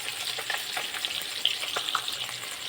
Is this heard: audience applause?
no